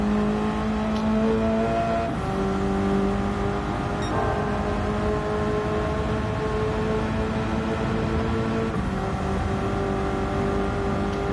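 A Gran Turismo 7 race car engine, short-shifted through its gears: sustained loud engine tone stepping in pitch at each gear change, about every two seconds, alone with no talking.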